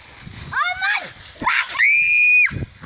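A child shrieks repeatedly while playing in a pile of leaves: two rising and falling high-pitched screams, the second a sustained piercing wail, with rustling between them.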